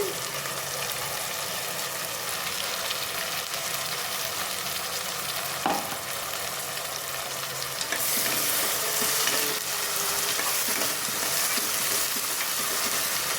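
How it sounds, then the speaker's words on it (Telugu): Ground masala paste frying with onions in a pan for spicy mutton curry, a steady sizzle with a scrape of stirring partway through, the hiss growing brighter and louder toward the end, no talking. "ఇలా మసాలా వేసుకొని మొత్తం బాగా ఫ్రై చేసుకోవాలి."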